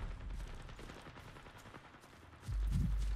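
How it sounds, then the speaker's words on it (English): Distant bursts of video game gunfire crackle in the background, followed by a louder, low rumbling blast near the end; no one speaks. "I hear a lot of gunfire on the right."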